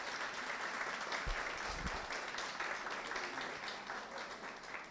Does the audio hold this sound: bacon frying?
no